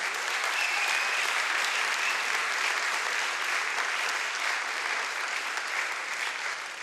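A concert audience at a charity acoustic concert gives sustained, dense applause that stays loud and even throughout, with no talk over it.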